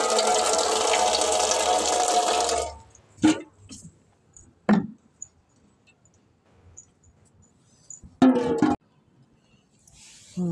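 Water poured from a pot to wash a pet turtle's feet splashes steadily for a few seconds, then stops, leaving quiet with a few scattered knocks and splashes.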